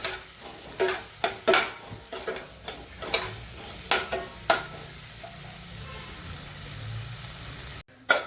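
Onion sautéing in a pan for aloo paratha filling, a steady low sizzle broken by repeated sharp scraping stirs of a spatula, loud and close, with no voices.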